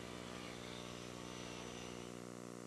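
A table saw trims the end of a chestnut board, its motor and blade giving a loud, steady, continuous whine with harmonic hum throughout, close up and with no talk.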